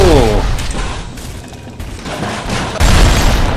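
Dense, loud gunfire from the video game BioShock, with a continuous rattle of shots and booming blasts that dip briefly in the middle, while a player talks over it.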